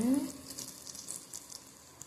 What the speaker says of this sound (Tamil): இப்போ இதை எண்ணெயில் பொறிச்சு காட்டுறேன் உங்களுக்கு